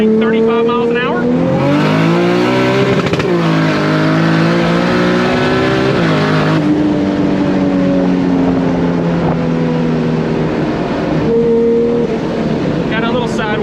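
A 2JZ-swapped BMW E30 with a DCT gearbox, running 10 pounds of boost, pulls hard in second gear from about 35 mph. The loud engine note climbs steadily and breaks into quick upshifts, with wind rushing throughout.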